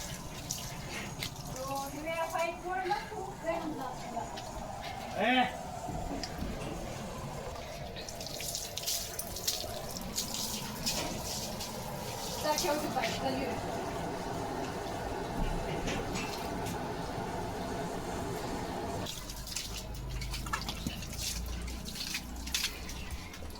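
Water runs and spatters steadily from a broken pipe outdoors, a continuous splashing flow with drips, while a person talks over it at moments.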